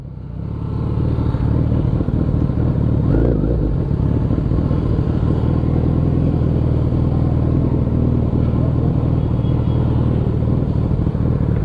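A Hayabusa motorcycle engine idles steadily and loudly at close range, a deep continuous rumble with mechanical clatter that holds throughout without revving or talk.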